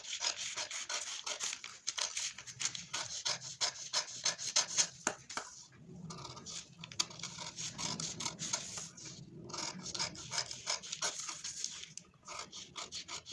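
Scissors cutting a paper pattern for a katori blouse (size 34), a steady run of close, dry rasping snips and rubs with no talk, pausing briefly around the middle and near the end.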